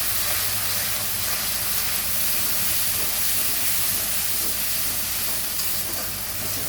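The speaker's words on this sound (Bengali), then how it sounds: "আমি এবার পেঁয়াজ বা রসুন বাটাটা দিয়ে দিলাম। এটা একটু হালকা করে ভেজে নেব।" Onion and garlic paste frying over a low flame gives a continuous broadband hiss and sizzle, steady and fairly loud throughout with no speech.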